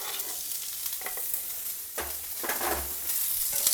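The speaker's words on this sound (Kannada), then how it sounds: "ಸ್ವಲ್ಪ ಈರುಳ್ಳಿ ಎಲ್ಲ ಚೆನ್ನಾಗಿ ಬೇಯೋವರೆಗೂ ನೀಟಾಗಿ ಈ ಥರ ಹುರ್ಕೊಂಡು ಬೇಯಿಸ್ಕೊಳ್ಳೋಣ" Chopped onions and green chillies frying in hot oil give a close, continuous sizzle, broken by a few scraping stirs of a spatula in the pan.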